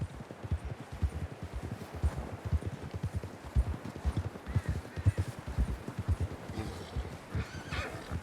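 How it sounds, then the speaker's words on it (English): Horse hooves clopping in Red Dead Redemption 2 on a ridden horse, a steady galloping rhythm of close, fairly loud beats with neighs and whinnies mixed in. "John was riding that horse when we left Blackwater."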